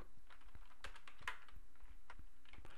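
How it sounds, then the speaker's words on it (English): Someone types on a computer keyboard, entering a search into Facebook: a quiet, irregular run of close clicking keystrokes with short pauses and nobody speaking. "In the search box at the top, begin typing the name of the group."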